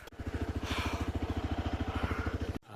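Motorcycle carrying two riders on a badly broken mountain road, its engine thudding in a steady rapid pulse close by, loud throughout before cutting off abruptly near the end.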